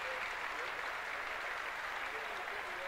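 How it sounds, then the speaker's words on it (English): Steady crowd applause fills a high school basketball game between Quincy and Urbana, a dense, even wash of clapping that holds at a constant level throughout without letting up. "It's a nice round of applause."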